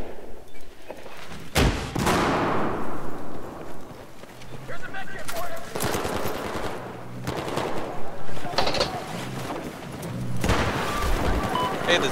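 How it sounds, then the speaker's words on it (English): Battlefield 4 combat brings repeated bursts of gunfire and loud blasts that arrive in waves with gaps between them, while a player talks excitedly over the shooting. "ZFP is shooting at us!"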